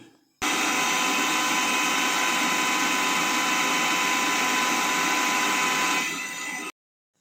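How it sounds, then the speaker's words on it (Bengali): An Alton electric blender grinds recipe ingredients for a quail egg bhuna. The motor starts abruptly, then gives a loud, steady whir for about six seconds before easing off slightly and cutting out, with no talking. "সকল আইটেমগুলো একসঙ্গে আমরা ব্লেন্ডার করে নেব। তো বন্ধুরা দেখতে থাকুন কিভাবে ব্লেন্ডার করছি আমরা।"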